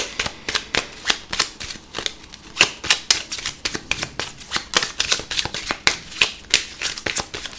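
Tarot cards being shuffled and cut, a rapid run of sharp riffling clicks in steady bursts, close and crisp with no talking.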